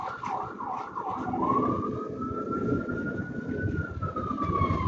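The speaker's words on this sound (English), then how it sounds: "I don't know if you can hear the siren" An emergency vehicle siren wails loud and continuous, rising and falling in pitch before settling into a long steady tone, with road traffic rumbling underneath.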